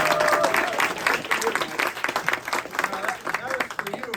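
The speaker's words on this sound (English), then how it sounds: "we're going to give him a round of applause because he's the one who caused this" An audience at a Southern Appalachian Paddlesports museum-night celebration applauds Mike Fischesser, steady clapping mixed with cheers and crowd voices for about four seconds.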